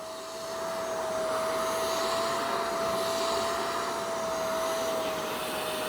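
A Shark StainStriker HairPro PX253 carpet cleaner runs in a steady, loud vacuum drone with a constant whine, picking up pet hair from a stained carpet, with no talking.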